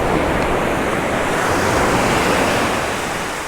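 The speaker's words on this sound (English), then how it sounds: "Just had a few rogue waves there from somewhere." Sea waves surging onto a beach at Tunstall on the UK coast, a loud continuous roaring wash with wind noise, close and steady, with no voices.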